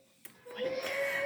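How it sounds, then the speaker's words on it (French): A vacuum cleaner that a small child is playing with switches on partway through and runs with a steady motor whine, fairly quiet and indoors, with no one talking. "Si vous entendez du bruit, c'est le bruit de l'aspirateur qu'il fait"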